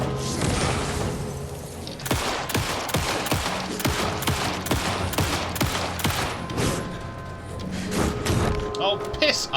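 Rapid repeated gunfire in the horror game Alan Wake 2, a long run of sharp evenly spaced shots, loud and close, with game sounds around them.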